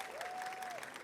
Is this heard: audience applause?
yes